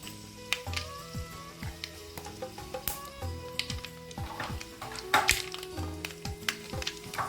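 Chana dal and urad dal sizzle in hot oil in a pan for a Tamil keerai and chutney recipe, with a steady crackle under frequent clicks and clatters of utensils nearby.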